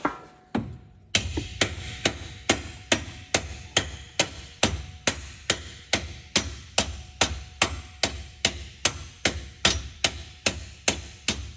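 Hammer blows driving out a leaf spring shackle bolt on a 1973 IH Scout II, about twenty sharp metallic strikes in a steady, evenly spaced rhythm, close and loud, with no talking.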